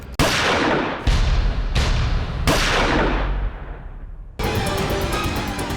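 Four loud gunshots ring out in a crime drama scene, each a sharp blast trailing off into a long echo, followed by a steady droning tone.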